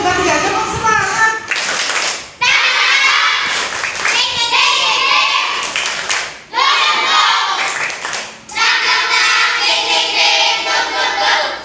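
Children in a kids' coding and AI class doing a rhythmic group spirit clap, loud patterned bursts of clapping separated by short pauses, with children's voices chanting along.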